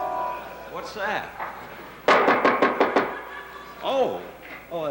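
A burst of five or six sharp, rapid knocks on a door, loud and close, lands in the middle of a man's muttering. He talks before and after the knocks.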